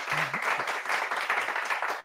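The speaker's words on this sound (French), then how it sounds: "Applaudissements pour Nassim." An audience at a live corporate anniversary event claps steadily throughout, a dense, even patter of applause at moderate loudness with no talking.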